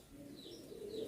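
A female racing pigeon gives a soft, low coo close by, a brief murmuring call over quiet background noise.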